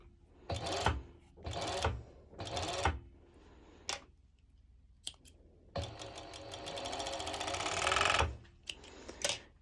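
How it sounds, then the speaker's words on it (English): A serger sews 6 mm rubber elastic onto pole dance bottoms in short rasping bursts, then runs in one longer continuous whir before stopping, with soft handling clicks in the gaps. "I will serge it. I will be adding my elastic."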